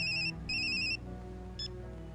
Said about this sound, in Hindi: रोहित का फोन है